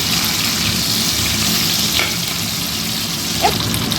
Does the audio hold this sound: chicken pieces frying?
yes